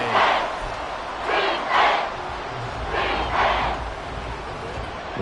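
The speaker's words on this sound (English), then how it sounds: "This crowd turning up the decibel level." Stadium crowd at a Super Bowl American football game against New Orleans in the final minute, a loud continuous roar that swells in rhythmic chant-like surges, heard from within the stands.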